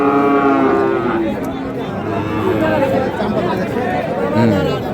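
A Deshal breed bull lets out a deep, drawn-out moo near the start amid a noisy crowd of chattering people at a cattle sale, with another low bellow later on.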